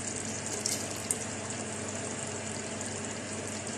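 Half a cup of yogurt poured into a chicken handi cooking on low heat, heard as a steady wet pouring and sizzling wash with a couple of small clinks, close and continuous, with no talk.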